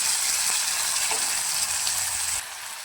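A sour vegetable dish fries in a pan, a steady close sizzle with a faint occasional stir, dropping quieter near the end.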